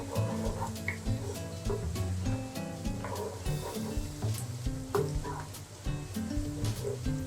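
Onions fry in a pan toward light brown for khichuri, a soft, steady sizzle with occasional stirring scrapes and clinks, fairly close but quiet.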